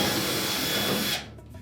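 A power screwdriver backs out screws from the bulkhead of a Whirlpool dryer, giving a steady close whirring drone that cuts off sharply near the end.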